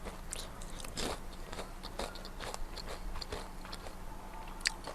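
Crunchy fried vegetables are chewed close to the mic, giving a quiet, continuous run of crisp bites and crackling crunches. A faint low hum sits underneath and no one speaks.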